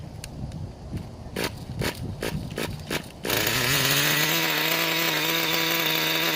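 A Traxxas Jato 3.3 nitro engine is primed with a few rapid pulls and clicks, then fires and settles into a loud, steady high-pitched buzzing idle close by.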